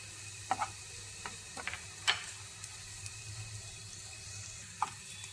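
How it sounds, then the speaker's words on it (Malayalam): Chopped carrot sautéed in a pan for a breakfast dish, a faint steady sizzle punctuated by a few sharp spatula taps and scrapes, close but quiet, without speech. "ക്യാരറ്റ് നന്നായിട്ടൊന്ന് വഴറ്റാം"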